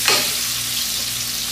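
Ginger fries in a hot pan: a steady, bright sizzle with a small stirring clatter at the start, with no voices.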